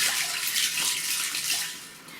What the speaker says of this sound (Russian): Сначала я просто его так перебалтываю в воде.